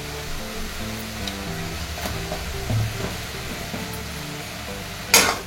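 Fenugreek leaves (methi) stir-fried in a pan make a steady close sizzle with soft stirring scrapes, ending in a sharp metallic clatter.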